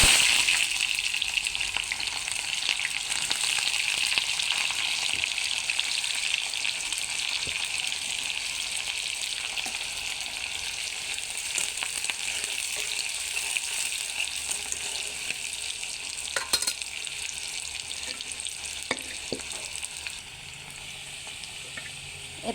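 Onions frying in oil in a pan while broiler chicken is being prepared, a steady bright sizzle that runs close and continuous throughout, with faint stirring scrapes now and then and no one talking.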